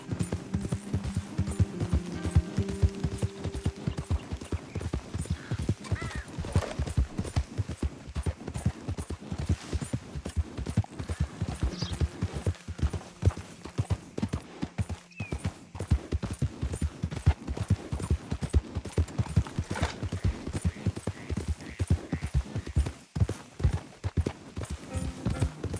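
Horse hooves clip-clopping at a steady gallop in the Red Dead Redemption 2 video game, a dense continuous rhythm of hoofbeats lasting throughout with no talking.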